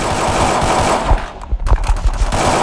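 Rapid bursts of automatic gunfire in the mobile shooter Free Fire, loud and close, with sharp repeated shots crackling over a dense game background.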